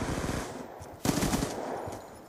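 Machine gun fire in the Black Ops II video game, a rapid rattling burst of shots close and loud, with a sharper crack partway through.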